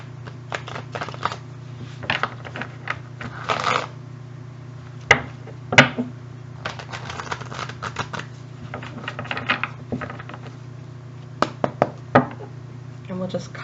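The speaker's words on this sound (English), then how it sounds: "So I'm going to shuffle them a little bit more." Close, crisp shuffling of tarot cards: bursts of soft clicks and riffles coming in irregular clusters over a low steady hum.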